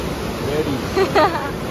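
River water rushing during a river crossing near Manali, a steady broadband wash with faint voices and brief calls rising over it.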